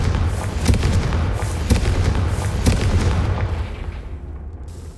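Explosion spells Bombarda and Confringo cast in a Hogwarts video game, a run of loud booming blasts with a rumbling roar that fades toward the end.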